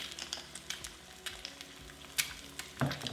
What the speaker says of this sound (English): we'll let it cook until the whites are set, but the yolk is still runny